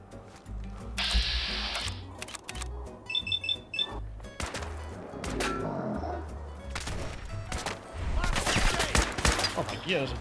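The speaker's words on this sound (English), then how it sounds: "This combat rifle's doing well." Combat rifle gunfire in the Fallout 4 video game, scattered bursts and sharp shots amid clattering game effects, with a voice talking in places.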